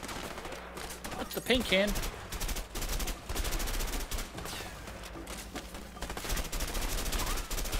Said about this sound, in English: I just shot the ground with, like, every bullet.